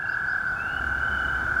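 A chorus of frogs sings outdoors in a steady, continuous, high-pitched trill that never stops, with a low rumble underneath and no voices.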